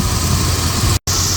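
A 1988 Jaguar Series 3 V12 runs as a steady, dense engine roar close by, briefly cutting out for an instant before resuming, with no voices.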